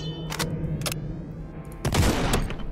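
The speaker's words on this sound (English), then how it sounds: "I don't think you have mastered the art of dodging shotgun shells" Shotgun fire in the video game Project Warlock 2: a few loud, sharp blasts with bursts of gunfire amid constant game noise, no talking.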